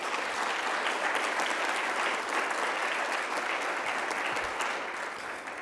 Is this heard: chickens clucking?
no